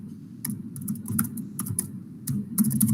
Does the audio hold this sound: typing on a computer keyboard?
yes